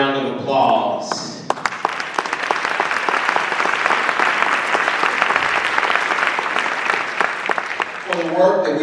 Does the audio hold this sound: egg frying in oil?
no